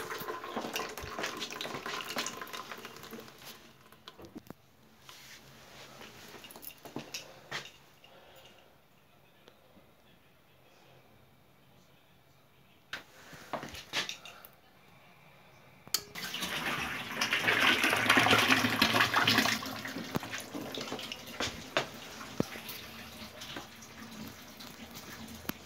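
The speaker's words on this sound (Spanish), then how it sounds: "A ver, vamos a abrir el agua." Water runs from a tap opened while draining an electric water heater, coming in uneven bursts with quieter gaps and ending in a louder, fuller gush, with occasional background noise.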